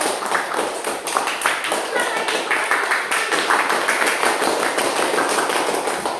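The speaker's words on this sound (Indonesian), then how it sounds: "Mari kita tepuk tangan untuk diri kita sendiri" A small group of learners in a classroom claps hands together in quick, uneven slaps, close and lively, as people talk over the clapping.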